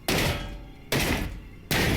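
A closed metal door being smashed in the game Cataclysm: Dark Days Ahead, three loud heavy booming impacts at a steady interval, each ringing and decaying before the next.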